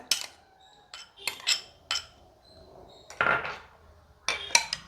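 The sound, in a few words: mixing tomato sauce, chilli sauce and mayonnaise in a bowl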